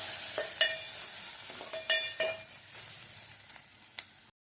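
Onions frying in a pan with green chillies and turmeric, sizzling steadily while a spoon scrapes and stirs in a few sharp, separate strokes; close and fairly quiet, with no voices.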